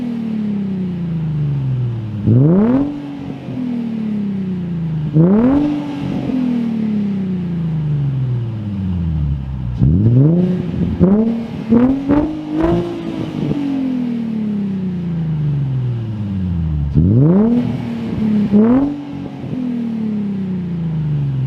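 A Nissan 350Z with an ISR Y-pipe and single GT exhaust, revved repeatedly in a parking garage: loud rising blips that fall back to a rumbling idle, with a quick burst of short stabs in the middle, echoing close by.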